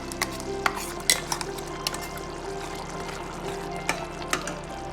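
A spoon stirs ground masala paste into a simmering black-eyed pea curry, giving soft, continuous scraping and bubbling with a few sharp clinks against the pot, fairly close and with no talk.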